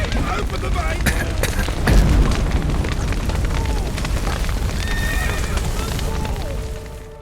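Horses neigh and whinny in a burning stable in The Witcher 3, their cries mixed into a loud roar of fire, crashing debris and shouting voices.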